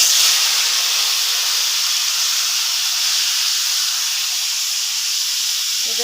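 Washed meat dropped into hot oil with reddened fried onions, a loud, steady broadband sizzle hissing close up and unbroken for several seconds.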